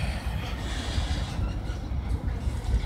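A train rumbles past nearby, a steady low roar of rolling wheels and cars with faint rattling, continuous and moderately loud.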